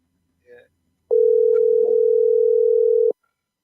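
A telephone line gives a steady, loud electronic tone for about two seconds, unanswered, with a short murmur just before it.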